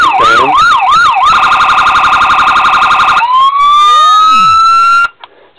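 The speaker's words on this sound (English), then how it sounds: "The button on the back for the siren that we discussed." A miniature 1:18 scale Ford Crown Victoria police car model plays loud electronic siren tones through a small speaker, cycling from a fast yelp to a steady wail, then a sweeping tone that cuts off abruptly.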